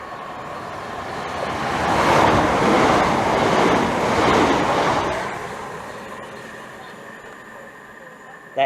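A Southeastern passenger train pulls into Swanley station on the Chatham Main Line, a broad rumbling roar that swells over a few seconds, holds steady as the carriages roll through, then fades back to quiet station ambience with a sharp click at the end.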